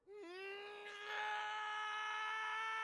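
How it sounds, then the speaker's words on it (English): A long, sustained scream from the video game character Clive, rising at the start and then holding steady and loud, growing slightly stronger partway through, with no other sounds. "Long scream."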